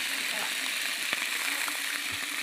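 Dried fish (tuyo) frying in a pan, giving a steady hiss and sizzle with small crackles throughout, moderately loud and close.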